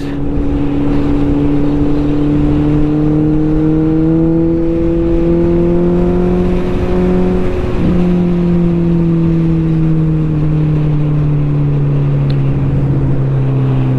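A Triumph superbike engine drones loudly and steadily on a group ride, its pitch rising slowly before dipping briefly and settling into a sustained hum, with wind rush around it.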